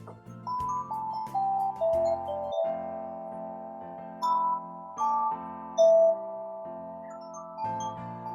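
A glockenspiel from Brazil plays a short melody of clear, ringing metallic tones, single struck notes sounding one after another with sustained decay, close and moderately loud, with no talking.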